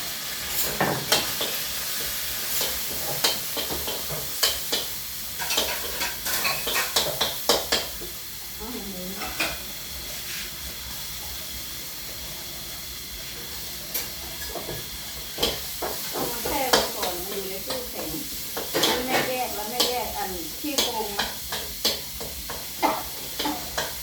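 Stir-frying in a home kitchen pan while oyster sauce is being added, with a steady sizzle and hiss broken by scraping stirs and occasional clinks of utensils, plus brief talk in the background.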